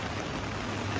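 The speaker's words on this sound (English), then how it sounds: "it has been raining non-stop" Steady spring rain falls on a garden, a dense, continuous hiss of drops with no pauses, close and even throughout.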